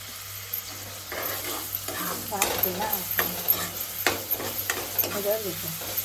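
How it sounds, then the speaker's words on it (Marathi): Finely chopped onion frying in a pan for a mushroom curry, a low sizzle with repeated scraping strokes of a spatula being stirred through it, close and fairly loud. "तर कांदा मस्त आपण शिजवून घेऊ."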